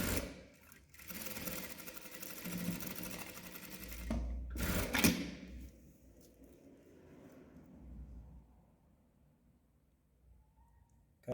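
A Kingstar KS-H7 industrial sewing machine stitches through six plies of fabric, running in a dense, close whirring burst with a couple of heavier thumps, then trailing off into quieter background.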